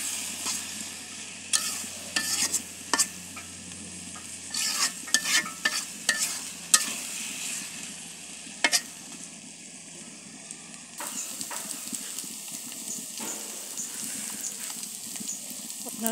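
Dried fish fritters sizzle in a pan while a utensil stirs them, giving a series of sharp scraping clinks early on over a steady frying hiss that later grows louder and more even.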